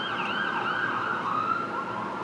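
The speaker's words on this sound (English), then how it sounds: "Kind of sounds like maybe an ambulance, because if it were police, the siren would keep going." An ambulance siren wails outside at a moderate distance, a steady rising and falling electronic tone sounding continuously over faint traffic rumble, with no talk.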